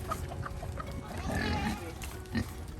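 Farm pigs grunt and squeal while goats wait for feed, a close, restless jumble of short animal calls and snorts with a louder burst near the end.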